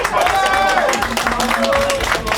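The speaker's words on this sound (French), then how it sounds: "vous pouvez l'applaudir, vous avez le droit" Crowd at an American football match applauds the evening's MVP, a captain of the Black Panthers: a continuous wash of clapping and crowd noise, fairly loud, with someone speaking French over it.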